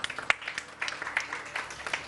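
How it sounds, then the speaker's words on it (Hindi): Brief applause from a studio audience on a Pakistani morning TV show, a light patter of clapping lasting about two seconds, moderately near, with faint voices underneath. "इनके लिए तालियां होनी चाहिए जी"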